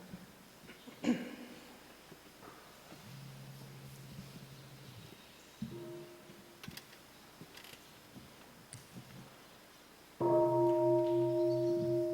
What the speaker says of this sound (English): May I have a sound of the bell?